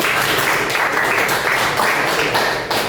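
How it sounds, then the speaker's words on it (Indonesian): Students in a vocational school classroom clap together in a dense, continuous burst of applause that holds steady for several seconds. "Tepuk tangan dulu"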